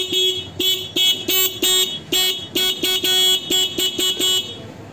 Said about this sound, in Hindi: अब यहाँ से चलो कंपनी वाला हॉर्न बजाते हैं